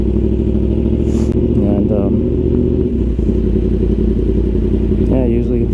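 A Yamaha R1 motorcycle engine runs loud and steady at close range during a ride through Scottsdale Quarter, with a deep throbbing drone and brief revs while someone talks over it.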